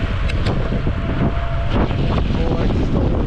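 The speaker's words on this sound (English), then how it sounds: "That wind is so nasty." Strong wind blows during a snowstorm in a loud, constant broadband rush that buffets the microphone, with gusty surges throughout the short stretch.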